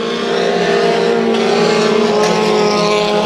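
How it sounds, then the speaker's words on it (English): Race cars in a heat race at Bakersfield Speedway, a loud, steady droning engine roar as the field runs past close by, with no talk over it. "Single file throughout the field, but the 83 car seems to be the one to watch."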